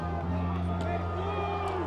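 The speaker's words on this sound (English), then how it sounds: "This is the loudest the crowd's been in the second half" A home crowd at a boys' varsity high school football game against Danvers roars steadily and loudly from the stands, with a commentator's voice over it.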